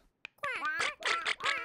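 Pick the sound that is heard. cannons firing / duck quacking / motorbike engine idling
duck quacking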